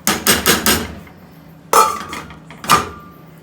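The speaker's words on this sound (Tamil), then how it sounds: "இப்போ இதை நம்ம மூடி வச்சிடணும்." A metal lid going onto a cooking pot of dry fruit pulao: a few quick metallic knocks, then two separate clanks with a short ringing tone, close and fairly loud with quiet between.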